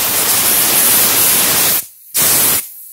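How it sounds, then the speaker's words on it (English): Compressed air from an air compressor blasts debris out of a Harbor Freight pipe threader, a loud hissing rush in two bursts separated by a brief pause. "And then I also have an air compressor."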